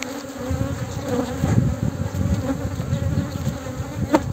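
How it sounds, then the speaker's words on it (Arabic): Honeybees swarm and buzz around an open hive during an inspection, a dense steady drone close by with no talk over it. "النحل راه مليح معليش"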